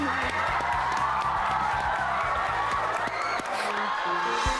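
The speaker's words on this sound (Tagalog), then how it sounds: "Palakpak na!" A studio audience claps and cheers on a Filipino television show, a loud, sustained wash of applause and whoops with music playing underneath.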